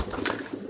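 A young pigeon gives a short, soft coo at close range, a brief low murmur with faint rustling and no talking.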